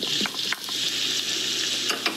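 Garlic and onions sizzle steadily in a hot pan as pepper steak is prepared, with a constant bright hiss broken by a few scraping stir sounds.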